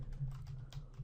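Quick, light key taps on a computer keyboard as text is typed, several soft clicks in an irregular rhythm, close and quiet with no talk.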